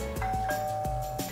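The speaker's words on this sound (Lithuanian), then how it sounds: "aš paleidžiu durų skambutį" A home doorbell rings indoors, several clear, sustained chime tones struck in quick succession, loud and alone with no voices.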